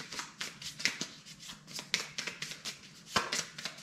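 A deck of board game cards is riffled and shuffled close by in quick irregular bursts of snapping and flicking, with no talk.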